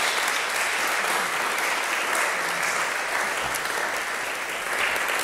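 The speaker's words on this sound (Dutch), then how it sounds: "Dames en heren, hartelijk applaus voor Tatjana Tjeftjoek." An audience at an outdoor classical concert applauds, a dense, sustained wash of clapping that stays steady and full throughout with no voices over it.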